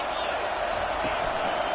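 Crowd noise roars steadily throughout a stadium in a Madden 23 American football video game, a dense continuous wash with commentary voices over it.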